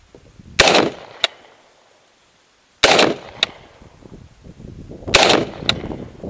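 Pistol shots ring out at an outdoor target range, three loud sharp reports each followed a beat later by a fainter second crack, spaced a couple of seconds apart with quiet gaps between.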